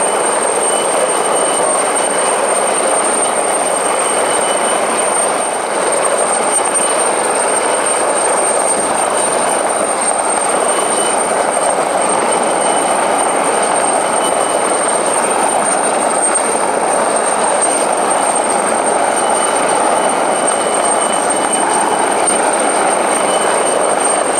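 Loud, continuous helicopter rotor roar holding steady overhead above a motor boat during a sea rescue, with no talking.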